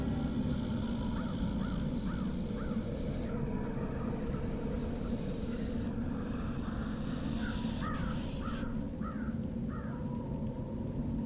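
Crow, a crow character in the video game Dreamfall, caws in two quick runs of short harsh calls over a steady low ambient rumble, with no one speaking.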